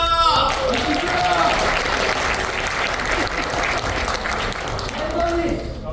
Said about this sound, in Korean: 열정적으로 토크쇼를 진행해준 우리 나온 패널들과 사회자분께 큰 박수 부탁드릴게요